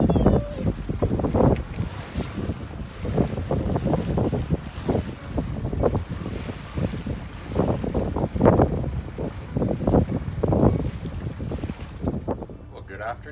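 Wind gusting across a dock lined with sailboats and tugboats, with rough buffeting on the microphone running the whole time under voices talking nearby.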